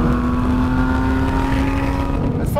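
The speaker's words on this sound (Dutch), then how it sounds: "Ik heb de sportknop ingedrukt zodat we de uitlater nog iets beter horen." A loud Porsche 997 GT3 RS engine in sport mode, downshifting to third, drones steadily with a raspy exhaust note, holding a rough, even roar throughout with no voices.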